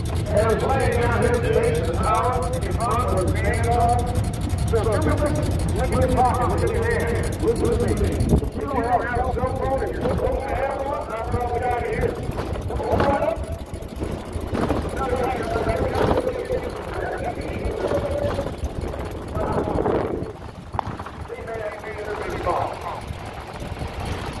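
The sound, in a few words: 1916 Ford Model T car driving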